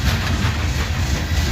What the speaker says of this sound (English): He's rolling downhill, locomotives and dynamic brakes.